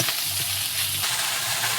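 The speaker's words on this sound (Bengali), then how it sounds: "দেখো শাকটা একটু নেড়ে করে আমি পরিমাণ মতো একটু লবণটা দিয়ে দিচ্ছি" Drumstick leaves tossed and stirred in a frying pan for a Bengali recipe, giving a loud, dense hiss of frying that carries evenly throughout with faint stirring underneath and no voices.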